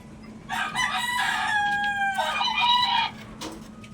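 A single rooster crow, loud and drawn out in two parts, over a low steady hum.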